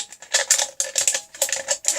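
Industrial scissors snip through the thin aluminium of a beer can, giving a quick series of crisp, crunchy metallic cuts in short rhythmic bursts, close up and with no talking.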